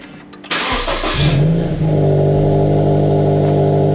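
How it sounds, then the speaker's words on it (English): Subaru BRZ engine starting up: a short starter crank followed by the engine catching with a rising rev, then settling into a steady, close idle rumble with no talk. "let's start that car up."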